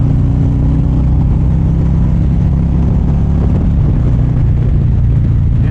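A 2024 Harley-Davidson Street Glide's engine drones steadily and loudly while riding in the rain, a constant low rumble blended with wind and road noise, with no break.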